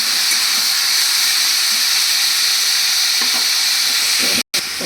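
Chopped banana stem sautéing in a pan with spice paste, making a loud, continuous frying hiss with faint stirring, broken by a brief dropout near the end.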